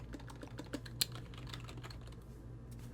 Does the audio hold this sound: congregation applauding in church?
no